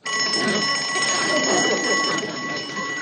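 An old telephone on a shared rural line rings one long, continuous ring for a long-distance call from New York, a bright metallic bell sustained steadily and fairly loud for about three seconds with no talk over it.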